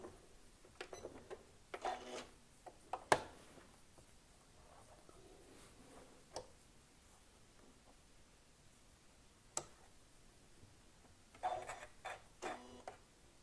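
Brief mechanical clicking bursts from a sewing machine, likely a Westalee Spin E Fex 14 setup, putting in a few tacking stitches, scattered faint and close in an otherwise quiet room.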